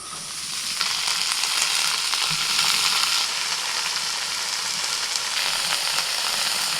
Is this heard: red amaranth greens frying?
yes